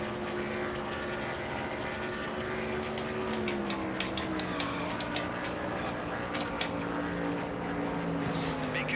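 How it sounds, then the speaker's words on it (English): A race car in Nascar Thunder 2003 at Pocono screams at high RPM, a sustained engine whine that gradually drops in pitch, with a run of sharp clicks or taps over the middle stretch. "I'm pushing my race car as hard as I can"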